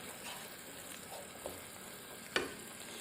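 Ground chickpea paste being stirred into channa masala in a pan, with a faint, steady sizzle and soft scraping, plus one sharper knock of the spoon near the end.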